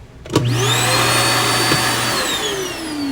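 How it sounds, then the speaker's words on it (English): The central vacuum with floor sweep in a 2022 Keystone Fuzion 428 toy hauler RV switches on abruptly and roars with a loud steady whine, then starts to fade. "your central vac system now has the floor sweep, so you can get rid of the dustpan forever"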